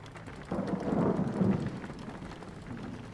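Rain and thunder fill the Jalopy driving game on a dirt road: a low, rolling thunder rumble swells after a short quiet start, then fades into steady rain noise.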